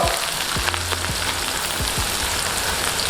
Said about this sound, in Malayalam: ഒരു 2-3 പീസ് വറ്റൽമുളക് ഇടുന്നു.